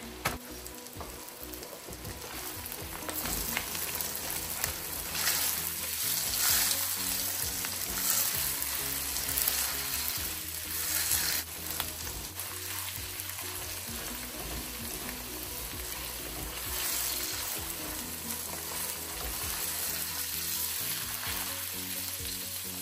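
Ground pork frying in a pan as filling for vegetable lumpia, a loud, dense crackling sizzle that swells and eases as the meat is stirred, close up and with no talk.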